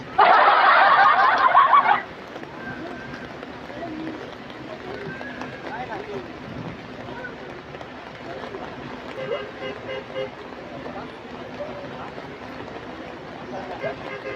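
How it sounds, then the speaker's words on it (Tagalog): A loud bus horn blares for about two seconds at the start, then gives way to ongoing chatter and background noise. "Gusto nyo, bumubusina na yung bus."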